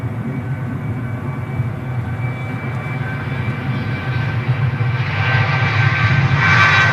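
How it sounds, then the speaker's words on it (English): A Ryanair Boeing 737 jet departing Manchester Airport for Prague, a low engine rumble with tonal whine that builds into a louder, brighter roar toward the end. "a Ryanair 737 off to Prague"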